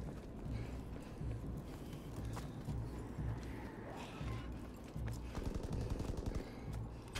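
Rapid Tommy gun fire in the Call of Duty: WWII Zombies game, repeated bursts of automatic shots with rumbling game sounds in the background, moderately quiet throughout.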